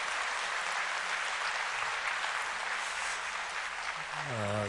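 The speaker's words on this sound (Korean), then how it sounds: "우리 박재범 목사님께 또 기아대체 박수로 감사를 표하겠습니다." A church congregation claps together during a Sunday mission service, a broad, steady wash of applause that holds throughout, and a tonal voice or instrument rises at the very end.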